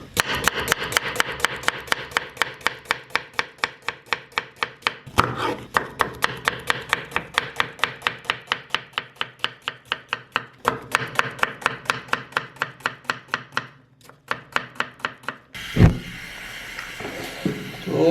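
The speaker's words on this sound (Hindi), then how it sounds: "तो सबसे पहले हमने 2 अदद प्याज लिए, तो पहले इसको काटते हैं।" Knife chopping two onions on a board: a fast, even run of sharp close taps, pausing briefly around the middle and again near the end, followed by a single louder knock.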